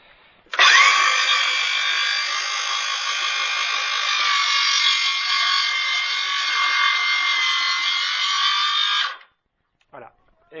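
A power saw whines steadily through a wooden board for about eight seconds in one continuous, loud cut, then stops abruptly, followed by a couple of faint knocks.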